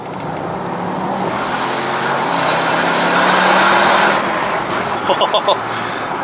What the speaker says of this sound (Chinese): V8 的声音出来了啊！